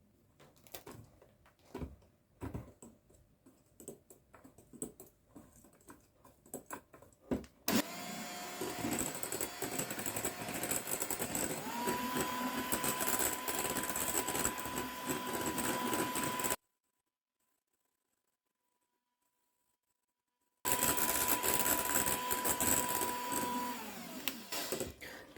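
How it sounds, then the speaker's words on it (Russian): An electric mixer whipping cream with powdered sugar hums steadily for long stretches, broken by a sudden silent gap before the whirring resumes at the same level; faint clicks and handling noises come first. "взбиваю сливки вместе с сахарной пудрой"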